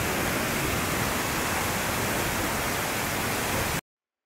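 A North Georgia creek flows over rocks, giving a steady, dense rushing wash heard close and unbroken before cutting off abruptly near the end.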